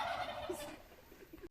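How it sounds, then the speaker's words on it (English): Turkeys gobble at a rural spot in the Colombian Amazon; the brief, faint gobbling comes from some distance, with a few soft calls following. "Where's the turkeys in the back?"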